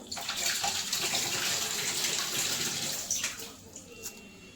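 Banana flower being rinsed under water, a continuous close splashing flow like a running tap that tapers off toward the end.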